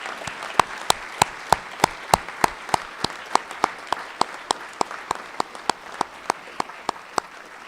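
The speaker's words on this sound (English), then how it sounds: "Let's give them a great round of applause for their service." A high school Veterans Day assembly applauds American Legion veterans standing before them; dense clapping carries a strong, evenly spaced rhythmic beat as the crowd claps in unison, steady and loud throughout.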